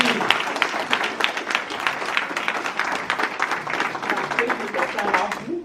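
A congregation applauds at a French-speaking prophetic church service, a dense, steady wash of clapping hands lasting several seconds without pause.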